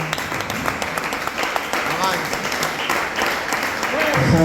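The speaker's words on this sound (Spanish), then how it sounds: "Denle un aplauso a Cristo" A church congregation applauds, the clapping steady underneath a speaking voice, with musical tones rising near the end.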